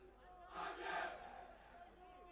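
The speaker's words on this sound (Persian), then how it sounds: "یک صدا تیم خودشون رو تشویق میکنن در این دقایق" Damash spectators in a stadium cheer their team in unison, a faint, distant swell of massed voices that rises briefly and then settles into a steady crowd murmur.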